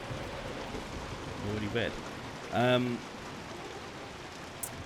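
Heavy rain in the video game Hunt: Showdown pours as a steady, dense hiss throughout, with a voice briefly speaking over it.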